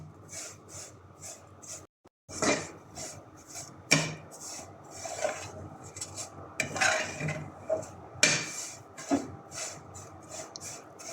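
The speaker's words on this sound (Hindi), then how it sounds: "सेवइयों को मीडियम फ्लेम पर फ्राई करें।" Vermicelli (sevaiyan) roasting in ghee in a pan over medium flame, heard as repeated close scraping and stirring strokes of a metal spoon against the pan, with rhythmic clinks and a brief pause.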